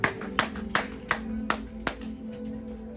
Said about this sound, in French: Est-ce qu'on peut acclamer pour notre pianiste?